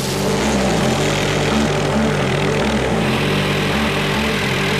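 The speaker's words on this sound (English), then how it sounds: "As the chopper lands, Dwayne discharges" A helicopter touching down near power lines after electrical line work, its engine and rotor making a loud, steady low drone with a pulsing rotor beat that runs without pause for the whole stretch.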